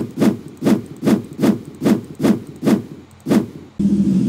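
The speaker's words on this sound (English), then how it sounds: "Weapon number three is the frying pan." A frying pan used as a weapon in the video game Ravenfield lands eight evenly spaced, close, punchy hits at a steady rhythm, followed by a constant engine-like drone that starts abruptly at the end.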